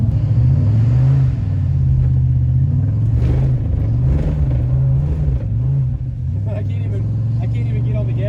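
Turbocharged V8 police car engine droning and revving on a race track, a loud steady low rumble with rising and falling pitch throughout, close up, with talk over it.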